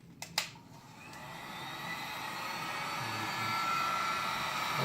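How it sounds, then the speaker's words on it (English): Heat gun blowing over a glued, heat-bonded foam Amtgard sword: a steady airy hum rising slightly in loudness, preceded by a few faint clicks, close and fairly quiet with no voices. "run the heat gun over it again"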